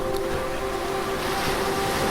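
Water rushing and churning over someone in a horror audio drama, a steady, dense wash of roaring, surging water with a deep underwater rumble.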